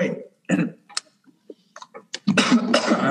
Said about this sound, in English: I'm sorry, I got the cough at the end of the night.